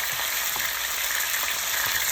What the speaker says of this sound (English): And we just go brown them up.